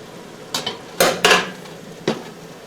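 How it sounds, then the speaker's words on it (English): A metal ladle scrapes and knocks against the bottom of a pot of re-batched apple jelly, giving a few separate clinks and scrapes spread out over a short stretch, fairly close and with no one talking. "Now I'm using a ladle because my measuring cup is too bulky for the bottom of this pot."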